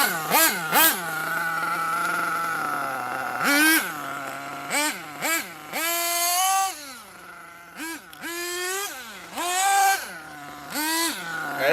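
A Hot Bodies HPI D8S RC buggy with a 3.5 nitro engine revs hard in repeated bursts, its buzzing pitch climbing and dropping between steadier idling stretches, loud and close throughout.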